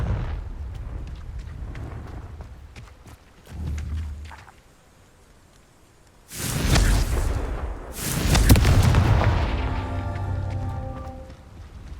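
Fiery blast from the Confringo spell in the game Hogwarts Legacy: two loud, booming explosions in close succession, each with a rumbling tail, over a low background hum.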